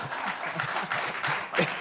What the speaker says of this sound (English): the guys are clapping